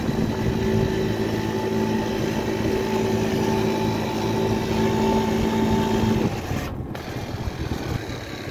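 A 50cc four-stroke JM Motors scooter from 2021 idles steadily close by with an even hum, then the engine cuts off abruptly, followed by a short click and faint background noise.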